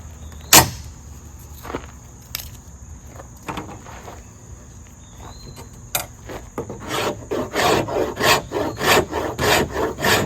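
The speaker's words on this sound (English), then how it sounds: "Scraping this dogwood shows you just how important a good sharp spine is" A knife spine scraping dogwood, giving rasping strokes that start sparse and grow into a fast, steady run of close scrapes, with no talking.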